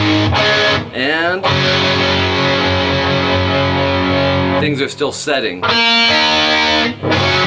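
Distorted electric guitar notes ring out and sustain, with a person speaking briefly over the playing.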